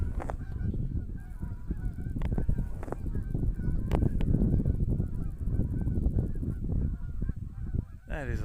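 Geese in a big flock honk nonstop outdoors on farmland, a thick, steady wall of overlapping calls at fairly close range with no talking.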